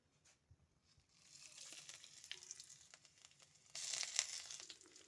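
Bay leaf, curry leaves, whole cumin, dried chilli and ginger paste drop into hot mustard oil in a kadai, a soft crackle rising into a louder, close sizzle with crisp pops near the end.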